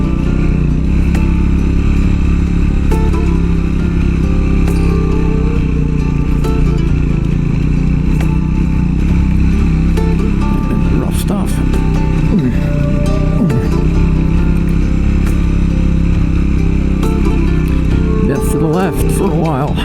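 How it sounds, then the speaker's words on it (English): Scrambler motorcycle engine climbing a steep hill on a Utah canyon trail, a loud steady drone with rising revs and rough clatter throughout, close and continuous, with wind buffeting. "Scrambler goes up this like nothing. It doesn't even log down."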